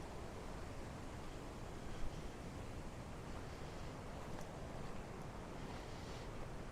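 Water near a campsite outside Dresden, Ohio, a faint continuous wash of flowing water mixed with soft wind noise, steady and distant with no voices.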